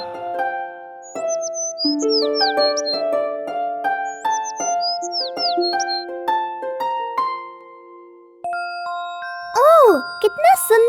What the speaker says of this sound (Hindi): ओह, कितना सुंदर पंछी है और कितना सुरीला गाता है ये।